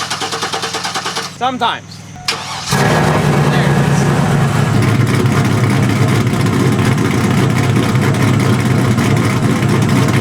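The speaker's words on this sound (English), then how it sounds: "Cool thing about Ron is it currently starts and idles." An old pickup truck engine cranks, catches and settles into a loud, rough, steady idle, after a brief stretch where someone speaks over the starter's rhythmic grinding.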